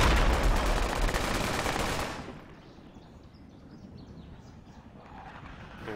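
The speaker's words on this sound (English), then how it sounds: "Fucking AK fire." Burst of AK rifle gunfire in the Project Reality video game during a jungle battle, a loud dense volley for about two seconds that cuts off abruptly, leaving faint ambient background.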